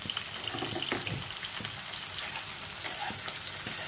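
Onions with sugar sizzle and crackle in a hot pan, a dense continuous frying hiss with a few stirring knocks, close up and steady.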